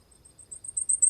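A Blackpoll warbler sings a very high, thin, insect-like series of rapid notes. The notes grow louder toward the end, with near silence behind them.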